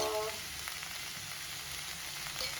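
Chili powder frying in a pan for a breakfast beans fry, a steady soft sizzle that holds evenly throughout, close by with no talking.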